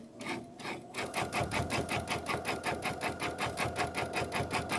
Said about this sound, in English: I am going to go a little back stitch